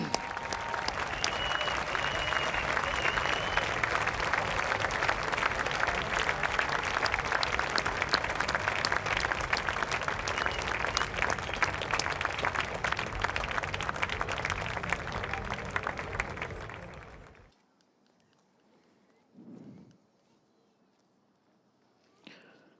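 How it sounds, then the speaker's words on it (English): Sustained applause from an outdoor Memorial Day ceremony audience in Livermore, California, loud and steady for about seventeen seconds before cutting off abruptly, followed by near silence with a faint brief sound. "Please give them another round of applause."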